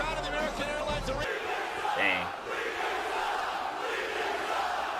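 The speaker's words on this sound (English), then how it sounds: "he's getting booed by this crowd of the American Airlines Arena" A large arena crowd boos Machine Gun Kelly, a broad, continuous roar of disapproval heard at a distance with no clear breaks.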